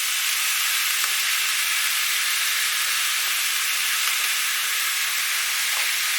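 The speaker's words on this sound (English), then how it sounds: "And then we stir that in to mix. Make sure it gets coated with the oil." Flour is stirred into sizzling oil in a pan while pork chops and a vegetable and herb medley cook. A loud, even hiss and sizzle fills the whole stretch, with faint stirring ticks underneath.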